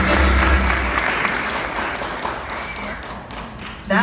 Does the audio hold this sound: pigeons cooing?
no